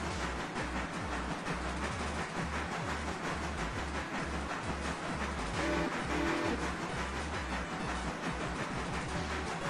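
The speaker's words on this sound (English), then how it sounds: "Passing by our little passenger train." A small passenger train in the Railroader video game rolls past with a dense, continuous rumbling roar and rhythmic wheel clatter.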